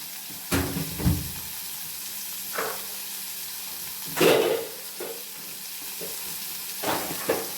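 Pirandai leaves fry in a pan with dried red chillies, garlic, pepper and cumin for thogayal. Loud, steady sizzling is broken by several sharp bursts of stirring and scraping, with no voices.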